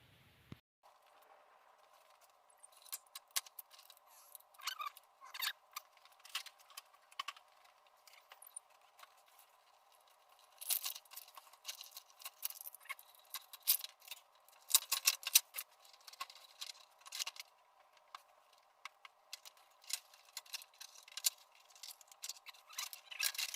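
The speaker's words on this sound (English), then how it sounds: "I'm going to start working on getting this old harness cut open and pulled out" An old car wiring harness being cut open with snips or a blade, heard as scattered clicking snips and crinkling tape over a faint steady hum, fairly quiet and close, with no talking.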